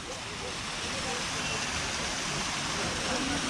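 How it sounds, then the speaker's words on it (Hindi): Water rushing steadily over a small dam by a lakeside irrigation system in Naukuchiatal near Nainital, a continuous broadband roar, moderately loud and unchanging throughout. "यहाँ पे कितनी पानी की आवाज़ आ रही है"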